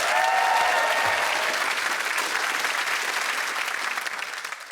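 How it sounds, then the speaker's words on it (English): A studio audience at a comedy show bursts into a sustained round of applause, dense and loud from the start, with faint whoops early on, tapering slightly at the end. "Give a round of applause to Sophie and Adam"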